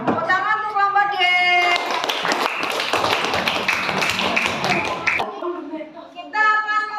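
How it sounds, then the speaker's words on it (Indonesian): Schoolchildren in an elementary classroom breaking into a burst of clapping for a group, loud and close for a few seconds, with someone speaking before and after. "Tepuk tangan untuk kelompok D."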